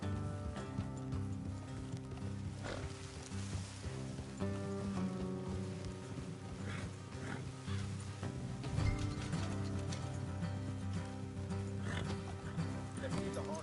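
Horses in Red Dead Redemption 2 snort and whinny amid a dense, busy background of hooves, rustling and faint voices, with a steady low rumble throughout.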